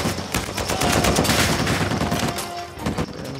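Uncharted 4 gameplay with dense blind-fire gunshots, including shotgun blasts, cracking loudly and close in a rapid, overlapping barrage that dies down slightly near the end.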